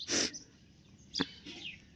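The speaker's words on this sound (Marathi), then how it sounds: "चिमण्यांचा सगळा चिवचिवाट कालवा चाललाय" A few faint, short sparrow chirps, separated by quiet gaps.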